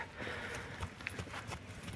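Faint, irregular hoof clops from a walking mare sound against a quiet, noisy background.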